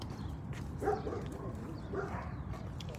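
Dogs bark a couple of times in the distance outdoors, two short muffled bursts rising above steady background noise, with no one talking.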